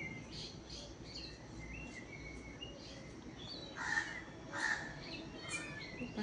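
Crows caw faintly in the distance outdoors, with a few scattered calls and two clearer caws a little past the midpoint over a quiet background.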